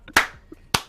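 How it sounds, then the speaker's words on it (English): A man claps his hands twice, two sharp, loud, close claps spaced apart with a quiet pause between them. "I just got to clap for that."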